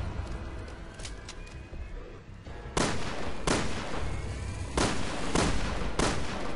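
Gunfire in the video game Resident Evil Revelations 2, a few faint early shots followed by five or six loud, sharp single reports spaced about a second apart over steady game ambience.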